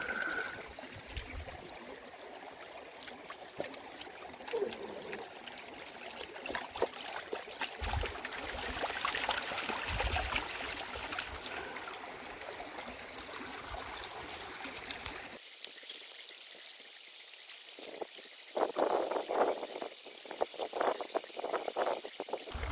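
Sluice material being panned in water at a creek, with sloshing, swirling water and trickling splashes up close, then a quieter stretch broken by sharper splashes and dribbles near the end.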